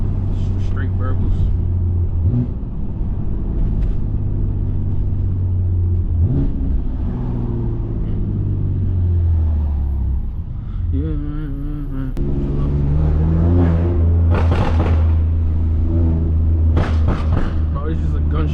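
Loud, raw exhaust roar from a straight-piped 650HP BMW F80 M3 rises through several pulls, with sharp gunshot-like pops and crackles near the end; people speak over the engine throughout.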